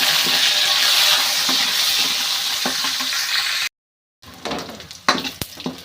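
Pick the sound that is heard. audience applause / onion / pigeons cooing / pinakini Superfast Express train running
onion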